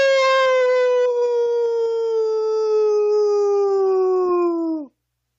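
A man imitates a dog's howl with one long, steady, tonal wail that slowly falls in pitch and cuts off abruptly after about five seconds.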